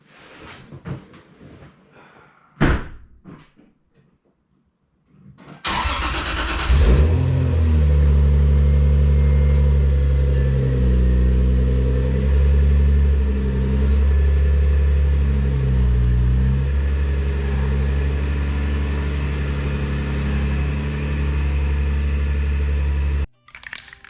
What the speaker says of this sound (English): let's move the Supra out of here